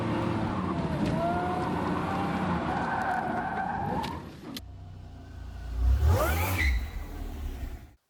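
A Pontiac Fiero with a supercharged 3800 V6 drives hard, its engine droning steadily as tires squeal, then it surges with a loud rising roar and passes close before fading.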